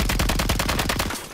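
Rapid automatic gunfire in Call of Duty: Warzone, a loud continuous burst of evenly spaced shots lasting over a second before cutting off abruptly.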